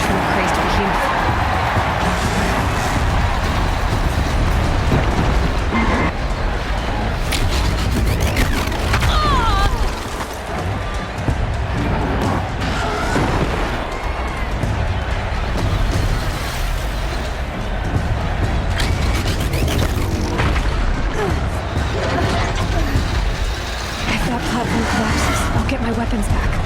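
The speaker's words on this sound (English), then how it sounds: "They weren't built to take a charge from a crazed behemoth." A giant behemoth machine in Horizon Zero Dawn charges and smashes into stone pillars, giving loud continuous rumbling impacts, crashes and mechanical roars over dense game music and effects, with a short dip partway through.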